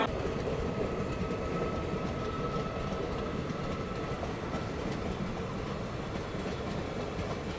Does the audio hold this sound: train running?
yes